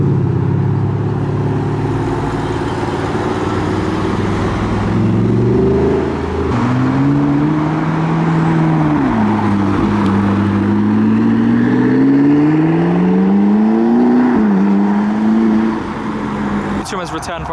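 A Mustang pulls away from a car show with a loud, close engine that climbs and falls in pitch as it revs and shifts, its note steady over background crowd chatter.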